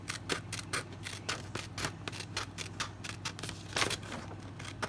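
Scissors snip through paper while cutting out a DIY rolling tray, a quick run of sharp, evenly spaced close-up cuts with a slight scraping edge, no voices over them.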